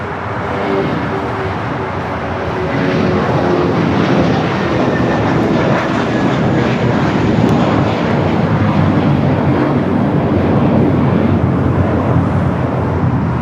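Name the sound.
American Airlines Airbus A321 taking off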